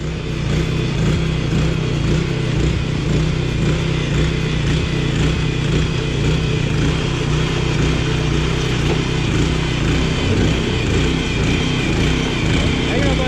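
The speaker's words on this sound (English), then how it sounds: "you can see how this machine moves and how fast" A 2020 Sting landscape curbing machine runs steadily at close range, a loud continuous engine drone with a low mechanical rumble that holds constant throughout while it moves along a curb install on a decline.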